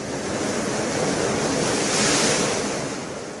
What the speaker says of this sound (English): Simple sounds like ocean waves,